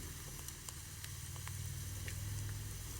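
Wild mushrooms searing in a hot pan over turned-up heat, a faint steady sizzle and hiss with a low background hum and occasional soft pops.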